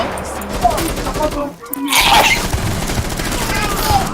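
Rapid bursts of gunfire in the tactical shooter game Rainbow Six Siege, loud and close, breaking off briefly then resuming under excited talk.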